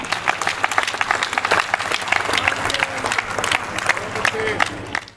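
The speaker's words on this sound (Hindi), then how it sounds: "मेरे सम्मान में अच्छी तालियां बजा सकते हैं आप ढंग से दोनों हाथ उठा के एक बार।" Audience applause at a Hindi comedy poetry recital, a dense, steady wash of many hands clapping filling the hall for several seconds before tapering off at the end, with a few voices mixed in.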